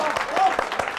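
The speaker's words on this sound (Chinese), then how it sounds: "下面我们就用热烈的掌声欢迎张伟队长给大家讲几句话" Soldiers give warm applause welcoming Captain Zhang Wei to speak after a battle victory, a brief burst of rhythmic clapping from a crowd, close and moderately loud, mixed with voices.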